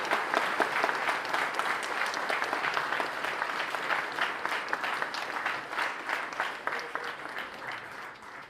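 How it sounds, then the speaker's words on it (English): A school audience at a Cum Laude Society induction ceremony gives an inductee a long, steady round of applause, dense and even throughout, tapering slightly near the end. "Please join me in giving John an uncomfortably loud round of applause"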